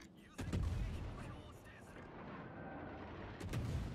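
Naval guns from a Montana battleship in the World of Warships game boom in two heavy blasts, one early and one near the end, with rumbling between them, while a voice talks quietly over the action.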